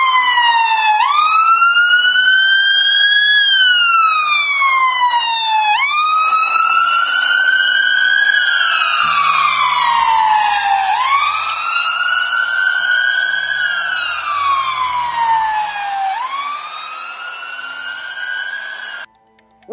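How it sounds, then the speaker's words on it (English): A loud ambulance siren passing by wails continuously, its pitch sweeping up and down in repeated cycles, growing slightly fainter before cutting off at the end. "If an ambulance on the road crosses us, we may get variable different sound."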